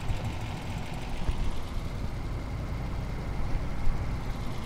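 A vehicle engine idles in Farming Simulator 19, a steady low rumbling chug with a faint knocking texture, continuous and fairly close, with no talk.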